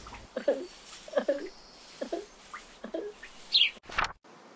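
Sparrows chirp in short bright calls, several separate tweets spaced across the moment against a quiet background, added as an effect within a read-aloud children's story.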